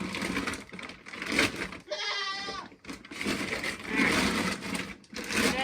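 Goats and sheep bleat repeatedly nearby, wavering calls overlapping one another, with one clear, shaky bleat standing out in a brief quieter moment.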